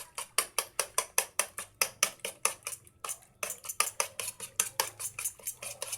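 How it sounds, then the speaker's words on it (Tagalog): A utensil beats a seasoned egg mixture with pepper and salt in a bowl for eggplant omelette, giving rapid, evenly spaced clinking strokes, close and crisp, with one brief pause midway. "Tapos haluin natin."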